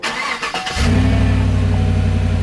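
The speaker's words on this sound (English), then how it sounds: "Let's make sure the truck starts." A supercharged Chevrolet Silverado pickup truck cranks briefly and fires up, then settles into a loud, steady idle rumble close by, with a softer mechanical whir before the start.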